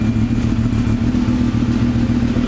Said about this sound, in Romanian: să văd dacă merge drăcia asta de motocicletă